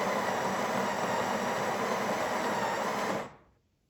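A Breville Barista Express BES870 grinding coffee beans with a dense, loud, steady whirring buzz that cuts off abruptly near the end.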